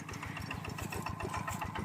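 An old, modified tractor engine chugs steadily nearby during a test drive, a fast regular thumping idle that stays even and loud throughout.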